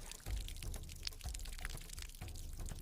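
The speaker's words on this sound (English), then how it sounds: "I'm hunting What for? for big water leak" Water escaping from a leaking pipe outdoors, an irregular gurgling pour with splashy drips and a few low thuds, faint and close, with no talking.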